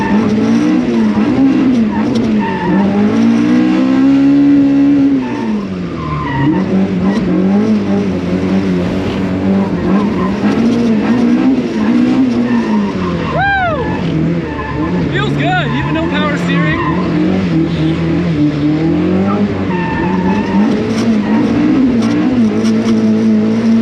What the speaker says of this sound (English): Like driving the E36, but you got to be way more on point because of the no power steering.